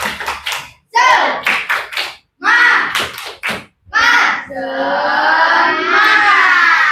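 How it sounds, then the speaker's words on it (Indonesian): A group of Indonesian students claps and chants together in a rhythmic cheer pattern, with loud bursts of clapping in short, separated groups, then a sustained group of voices singing or chanting at the end. "Coba tepuk semangat."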